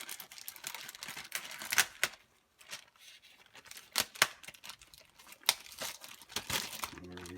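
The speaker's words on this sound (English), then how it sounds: "first thing is we take the bag off" Plastic vacuum bag is pulled and peeled off an aged boneless prime rib. The crinkling and crackling comes close and in uneven bursts with short pauses between.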